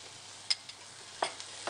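Quiet frying hiss as masala for potato fry cooks in a pan, with a few sharp scraping clicks as it is stirred, three distinct strokes over a steady low sizzle.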